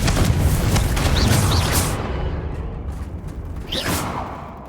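A Confringo fire-blast spell goes off in Hogwarts Legacy as a loud, rumbling burst with a whooshing tail. It fades over a few seconds before a second softer swoosh.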